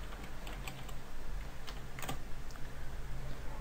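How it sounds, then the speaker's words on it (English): Typing on a computer keyboard while entering text in Notepad: a steady run of quiet, close key clicks with a few sharper taps, no voices. "Then you type inline,"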